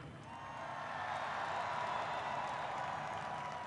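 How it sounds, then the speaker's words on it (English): Distant crowd applause and cheering wash through the Kansas City Chiefs Super Bowl victory parade, a faint, sustained roar of clapping swelling after the first second and holding steady. "Let's give a round of applause to those people"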